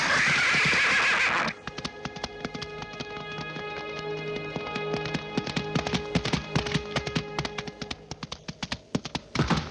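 Horse neighing and whinnying loudly up close, followed by a steady run of clip-clop hoofbeats that grows sharper and more irregular toward the end.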